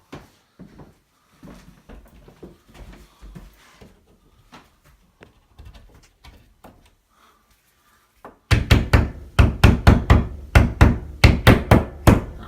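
Hammer tapping metal wire shelf clips into a wall while installing a ClosetMaid wire closet rod shelf, a run of sharp close knocks in quick succession, loud and alone after quieter handling clatter.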